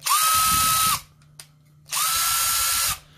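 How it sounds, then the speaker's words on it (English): A small Durofix impact driver with a square anvil, running in reverse on a 13.8-volt bench power supply, gives two steady, close whirring bursts of about a second each with a brief pause between them. "this little Durofix, since it has a square anvil and it's actually tuned down more reverse torque, you can hear it"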